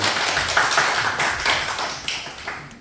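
Congregation clapping in a Korean church after a sermon, a crisp burst of many hands with distinct sharp claps, fairly close and loud, tapering slightly toward the end with no speech over it.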